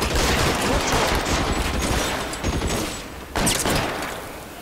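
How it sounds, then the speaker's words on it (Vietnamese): Dense gunfire rattles through a shootout in L.A. Noire, loud rapid bursts packed together, briefly thinning before another sharp volley. "Đâu ai ngờ bắn nhau lại rát thế này."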